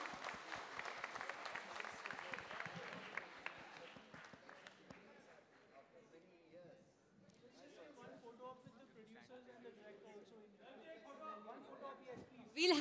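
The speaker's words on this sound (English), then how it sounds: "Give them a huge round of applause" Audience applause at a film trailer launch event, a burst of clapping that fades over several seconds into crowd chatter and nearby talking.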